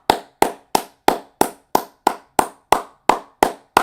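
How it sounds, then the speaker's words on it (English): A streamer claps his hands close to the microphone, twelve crisp, evenly spaced claps at a steady slow rhythm with nothing else audible. "Round of a fucking applause."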